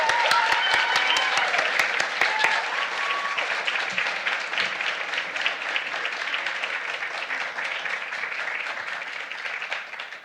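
Warm audience applause welcoming a lecturer at a spring bulb show opening lecture, a sustained dense clapping that starts strong and slowly tapers over about ten seconds.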